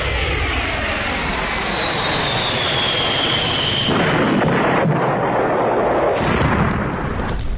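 The jet engines of Air India Flight 171 roar steadily on takeoff from runway 23 before it crashed, with a whining tone sliding downward, then a deep rumbling boom near the end.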